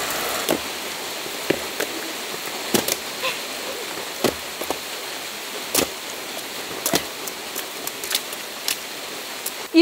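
Rain falls outdoors on an off-grid homestead as a steady hiss, broken by scattered sharp taps and drips at irregular intervals, fairly close and without talk.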